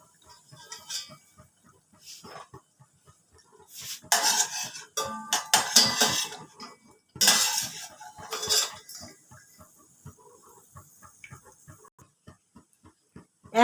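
Fried coconut biscuits are lifted one by one from hot oil with a metal utensil, giving repeated scraping clinks and clatters against the pan over a soft background sizzle, with louder bursts in the middle.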